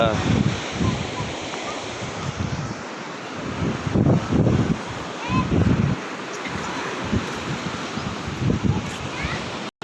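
Rough, rushing ocean surf at Brooke's Point, Palawan, with heavy waves crashing in repeated surges, loud and close, mixed with wind buffeting the microphone.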